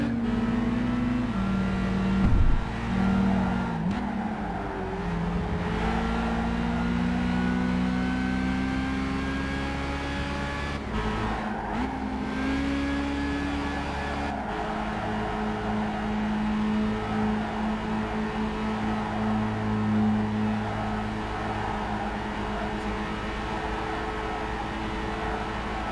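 A Toyota Celica engine in the racing game Gran Turismo 5 drones and revs continuously, its pitch rising and falling through gear changes, with no talking over it.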